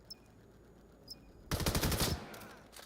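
Automatic gunfire from the VR shooter VAIL: a loud, rapid close burst of shots after a quiet stretch with faint ticks, trailing off into scattered distant fire.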